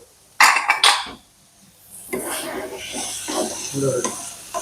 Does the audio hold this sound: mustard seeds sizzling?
yes